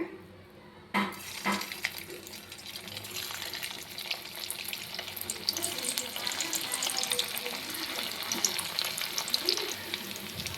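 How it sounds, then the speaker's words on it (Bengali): Soya chunks frying in hot oil in a wok, a steady bright sizzle that starts with a sudden splashing hiss as they drop in and continues evenly, with light stirring clatter. "তেল আমার গরম হয়ে গিয়েছে। এবার আমি সয়াবিনগুলোকে ভেজে নিব।"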